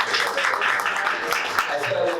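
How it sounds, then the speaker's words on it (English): An audience at a boxing press conference claps in a brief round of applause, a close, scattered patter mixed with some voices. "I think we should give him a round of applause for that."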